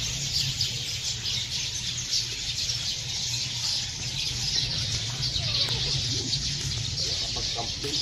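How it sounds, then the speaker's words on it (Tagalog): Many birds chirp and call continuously at a farm in the morning, including chickens clucking, in a dense, steady chorus with a low background hum underneath. "Ang daming ibon."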